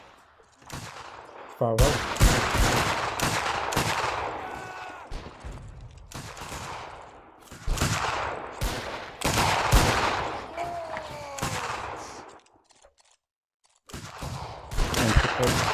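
Rifle volleys crack out in Mount & Blade Warband during an Anglo Zulu battle event, with bursts of massed gunfire in several loud waves and a brief lull near the end, while a voice calls out faintly.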